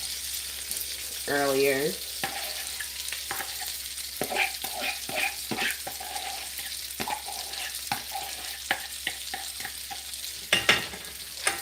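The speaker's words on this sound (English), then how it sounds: "we're gonna add these onions now" Onions sauté in a pan, with a soft steady sizzle under repeated scraping strokes of a spoon stirring them, close by, and a voice speaks briefly near the start.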